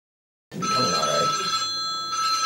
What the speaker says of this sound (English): the duty phone is, most days is the bane of my existence